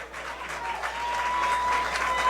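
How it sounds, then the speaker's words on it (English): Football fans applauding the kicker after a missed 50-yard field goal at a high school game, a faint distant spread of clapping and crowd noise that swells slightly. "he gets a rousing applause from the fans"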